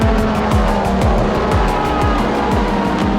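Ferrari hypercars roar away from the start of the FIA World Endurance Championship 6 Hours at Spa, heading down to Eau Rouge; loud, dense engine howl with repeated rising and falling gear-change sweeps, close and continuous.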